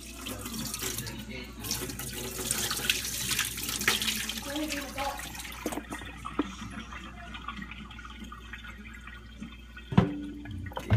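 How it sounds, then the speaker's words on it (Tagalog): Water rushes and splashes steadily for several seconds as it is drained off in a kitchen, then quiets to a softer trickle with a few faint clinks near the end. "pwede na po natin tanggalin yung tubig."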